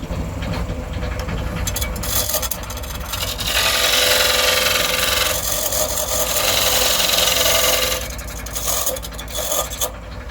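Wood lathe turning and hollowing an oak, cherry and ash cake stand, a loud continuous motor drone with a rising scraping rasp from the tool cutting the wood in the middle stretch, then easing off.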